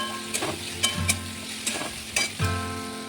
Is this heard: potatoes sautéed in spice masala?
yes